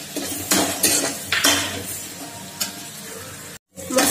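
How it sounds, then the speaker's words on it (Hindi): Chhole masala spices frying in oil in a pan, with a spoon scraping and stirring in loud, repeated strokes over a steady close sizzle, with no talking. "मैंने जो मसाले लिए थे उसे भी इसमें ऐड करके भूनेंगे।"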